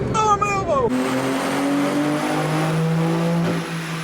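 A tuned BMW G80 M3 on a dyno pulls hard on a pump-gas tune, its engine note climbing in a steady, loud rising wail that holds strong and then eases off near the end.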